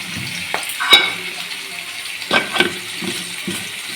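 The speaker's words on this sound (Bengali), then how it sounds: "এর মধ্যেই আমি বড়িটা ভেজে নিচ্ছি" Lentil dumplings (bori) fry in oil in a wok, with a low sizzle under occasional scraping and clattering knocks, spaced out and close by.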